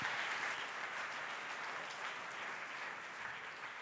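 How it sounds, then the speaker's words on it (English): Steady, dense applause from a crowd, many hands clapping continuously at an even level throughout, with no voices standing out. "another round of applause"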